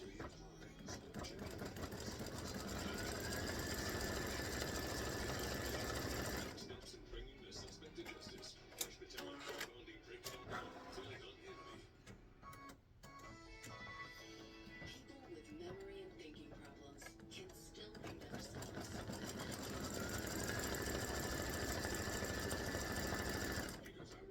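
An embroidery machine stitches a pumpkin face quilt block with a fast, steady mechanical whir that pauses midway and then resumes at full pace. It sounds close and constant.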